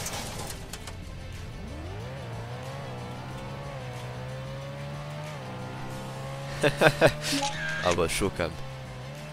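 Car driving in the Roblox game Emergency Hamburg, a steady engine drone rising as it accelerates, with a burst of sharp tonal squeals near the end, under a speaking voice.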